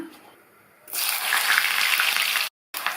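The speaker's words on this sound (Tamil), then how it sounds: "கிழங்கை வந்து கொஞ்சம் கொஞ்சமாக போட்டு நம்ம பொரிச்சு எடுத்துக்கலாம்." Pieces of elephant foot yam dropped into hot oil in a kadai burst into a loud, steady frying sizzle after a quiet start, cutting off briefly near the end before resuming.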